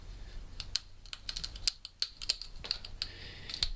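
A Hinderer folding knife bites into wood in a quick series of crisp, close clicks and short scraping strokes, irregular and fairly quiet, with no talking.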